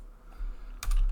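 Quick burst of clicks from a computer keyboard being typed on, close and crisp, with short clustered keystrokes and no voices.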